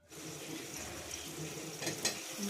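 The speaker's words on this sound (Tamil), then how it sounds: "உப்பு கொஞ்சம் சேர்த்து வதக்கணும்" Vegetables being sautéed with a pinch of salt in a pan for a Tamil mandi kuzhambu, giving a steady close sizzle with light stirring scrapes throughout and a brief louder clatter near the end.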